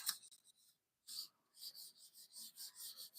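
Writing is wiped from a board in short, faint rubbing strokes, a brief pause and then a steady rhythm of scrubbing, close but quiet.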